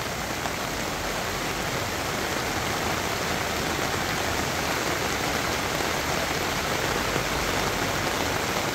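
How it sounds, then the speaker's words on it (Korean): Steady rain falls across a farm in a continuous, even hiss with dense patter, close and uniform throughout, with no voices. "비가 오는 그런 풍경을 또 이렇게 영상에 담습니다."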